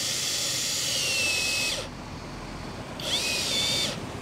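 Kingblue KM18QE cordless drill powered through a battery adapter, whining loudly at high speed for almost two seconds, cutting out briefly, then spinning up again for about a second before stopping; no voices.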